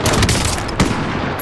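Gunfire in Call of Duty: Modern Warfare from a weapon that fires single shots, with a few sharp close reports, at about 0.25 and 0.8 seconds, over a dense, constant backdrop of battle noise.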